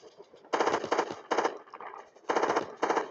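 Bursts of machine gun fire from a shooting video game, several rapid volleys of varying length separated by short pauses, loud and close with no talk.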